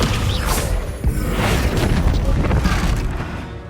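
A Confringo explosive spell going off in the Hogwarts Legacy video game, a loud, dense blast and rumbling crash that fills the moment with heavy low-end boom and crackling debris.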